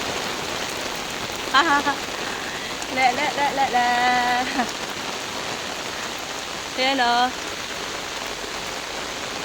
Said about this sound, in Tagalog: So, lumakas ang ulan.